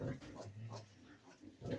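Soft, close grunts and snuffles from piglets repeat irregularly, with faint voices in the background.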